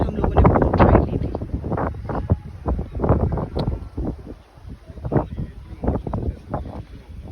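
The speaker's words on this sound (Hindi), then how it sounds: "अच्छी ठंडी हवा है" A cool breeze buffets the microphone at a hilltop fort overlooking the sea in Goa, coming as loud, uneven gusts that swell and fade throughout.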